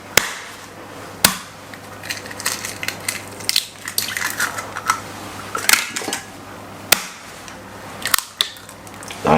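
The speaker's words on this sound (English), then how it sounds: "Just gonna crack those eggs and put them straight inside of the bowl" Three medium eggs cracked one after another into a bowl, giving sharp, close taps and cracks spaced a few seconds apart, with small clatters and shuffling in between, all without talk.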